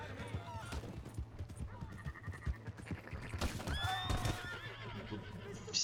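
Several horse whinnies rise in sharp bursts over steady clip-clop of hooves, fairly close and loud, with busy background noise throughout.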